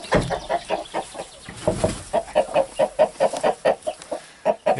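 Rhode Island Red hens and a rooster on a hobby farm cluck in a quick, rhythmic series of close, loud calls, with some overlapping bird noise at the start.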